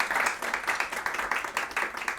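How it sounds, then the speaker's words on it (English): Audience clapping for a guest at a festive founders' event, a lively burst of many hands in quick uneven rhythm, fairly close and filling the whole moment. "Can we have a round of applause for Marc?"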